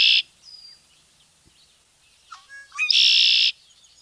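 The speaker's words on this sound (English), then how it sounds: "That's the sound of the red-winged blackbird calling from its perch in the reeds" A red-winged blackbird calls from its perch in the reeds: a brief high whistle, a quiet note, then a rising stuttered lead-in ending in a loud, buzzy trill, close and alone.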